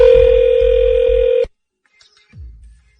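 Telephone line tone as a call is put through to voicemail: a steady electronic tone cuts off abruptly after about a second and a half, followed by faint clicks and a low rumble on the line.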